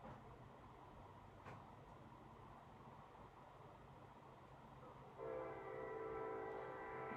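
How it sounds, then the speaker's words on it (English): A low, steady rumble of a train in the distance, joined partway through by a sustained horn tone that grows louder as it nears. "The train is coming."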